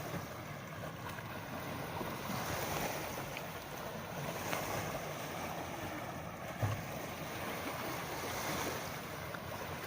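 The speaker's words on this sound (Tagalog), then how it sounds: "Mataas pa rin yung dagat, high tide pa din." Sea waves at high tide wash continuously with a steady, broad roar and some wind buffeting, constant throughout without pauses, heard from atop a stockpile.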